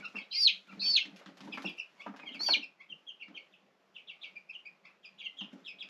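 A homestead rooster flaps its wings and clucks close by, several quick bursts of flapping and sharp calls at first, then softer scattered clucks and chirps trailing off, fairly quiet overall.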